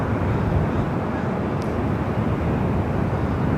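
Airliner engines at LAX heard from a parking garage: a loud, continuous jet roar that holds steady throughout with no talking.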